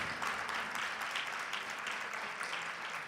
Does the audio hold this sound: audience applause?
yes